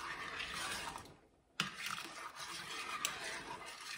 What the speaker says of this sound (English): Just put those in your liquid. And give it a good stir.